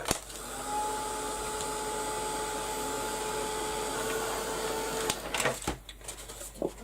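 A heat tool blows hot air to dry acrylic paint, a steady, faint whirring hiss that runs for about five seconds before cutting off, followed by a few light handling clatters.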